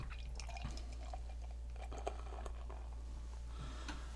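Goose Island Bourbon County Rare, a dark stout, is poured into a glass at a bar, a faint trickle and scattered drips over a low steady hum.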